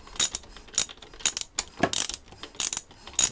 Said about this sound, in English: engine is turning over nicely and the pistons rising up and down without any problems